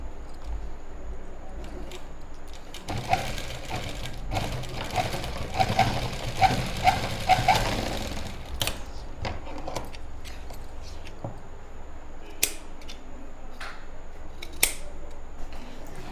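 A sewing machine stitches a lined pant to secure the seam, with a busier mechanical burst in the middle stretch and quieter handling and snips around it, close up and without talk.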